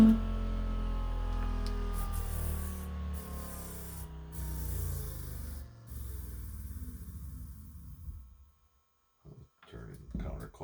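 A hand-wired pulse motor spins clockwise with a steady whirring hum and rapid rhythmic clicking, then cuts out into near silence before a few faint knocks.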